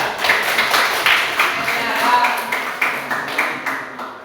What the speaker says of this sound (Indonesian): Oke, kasih aplaus dulu untuk kelompok 3